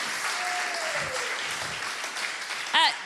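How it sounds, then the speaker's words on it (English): Applause from an audience for a comedian at a comedy night held in a church hall, sustained clapping throughout, with a brief whistle-like tone early on and a short voiced sound near the end. "Let's give Andy another round of applause"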